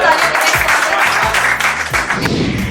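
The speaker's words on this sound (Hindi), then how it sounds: "एक बार जोरदार तालियां।" Audience applause for a poet at a Hindi poetry recital, steady and loud throughout, with some voices and stray speech mixed in over the clapping.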